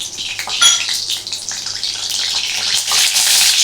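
Whole cumin seeds hit hot white oil in an already-heated wok, giving a loud, bright hiss and crackle that swells and holds steady.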